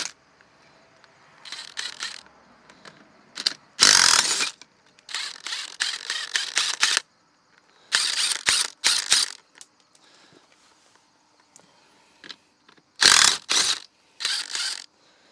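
A ratchet wrench with a 5/8 socket backs bolts off a 1973 Larson boat's 120 hp Mercruiser engine, giving repeated bursts of sharp, close clicking in quick runs separated by short pauses.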